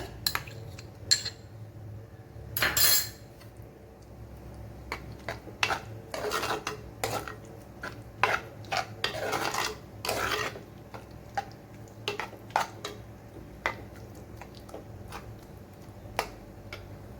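Ingredients for a Kerala-style sweet pachadi are mashed in a pot: repeated clinks and scraping taps of a utensil against the pot, irregular and close, continuing throughout with no talk.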